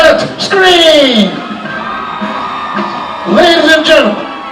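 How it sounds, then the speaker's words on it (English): A stadium crowd at a Delaware State University marching band show screams and cheers loudly in two big surges, with an amplified voice leading them between the bursts. "Everybody, anybody, now let's scream!"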